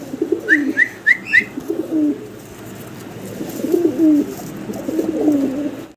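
Two bright red pigeons coo in low, throaty repeated bursts close by, with a few short chirps early on and a second run of cooing later.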